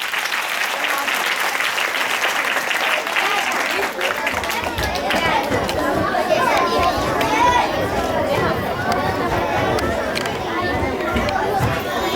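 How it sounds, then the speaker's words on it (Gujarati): Applause breaks out for a children's raas leela dance at a school assembly, building after a few seconds into steady, dense clapping mixed with crowd chatter and talk. "જોરદાર તાળીઓ થઈ જાય"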